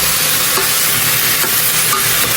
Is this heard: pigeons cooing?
no